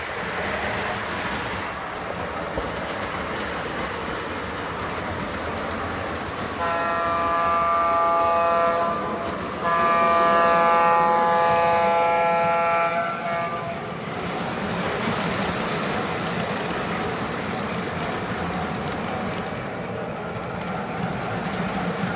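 An Alco model train runs with a steady rumble and rattle, then its horn sounds a sustained multi-tone chord twice in a row, fairly loud and close, before the running noise carries on alone.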